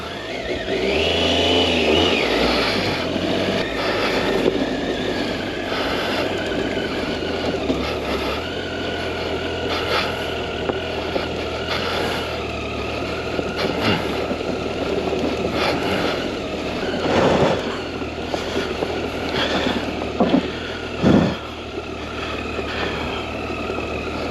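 A moped or motorcycle rides downhill on a mountain road during a motorcycle trip through Albania and Greece, its engine droning steadily and close throughout with wind noise and occasional revs, no talk over it.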